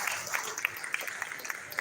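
An audience at a Hindi comic poetry gathering in a Jain hall gives a thin round of applause: scattered, moderately loud individual claps over a steady room murmur.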